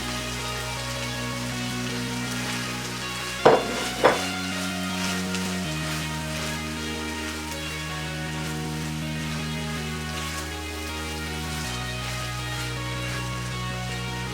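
Shrimp and tomatoes fry in a pan with a steady, even sizzle and two brief clinks of a utensil partway through, with no talk.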